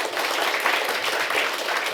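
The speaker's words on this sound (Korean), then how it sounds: "박수 부탁드립니다." Dense, steady applause from a conference audience at the close of a Korean ocean and fisheries outlook panel session fills the room at even volume, with no talk over it.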